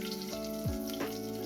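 White cumin seeds sizzle softly in hot oil while cooking Pakistani chicken haleem, a quiet steady crackle with faint tonal hums in the background.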